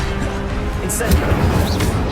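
An Incendio fire spell cast in Hogwarts Legacy: a loud, roaring burst of flame with rumbling, crackling impact amid combat noise.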